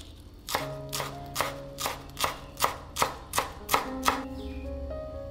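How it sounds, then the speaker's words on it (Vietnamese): A knife chops green onions steadily on a cutting board, about ten even, crisp strikes in a regular rhythm, close and clear with no talking. "phần hành lá thì em sẽ đem thái nhỏ ra"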